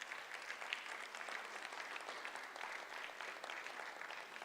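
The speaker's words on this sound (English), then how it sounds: "A round of applause." An audience applauds steadily throughout, a dense wash of many hands clapping at moderate volume with no voices rising above it.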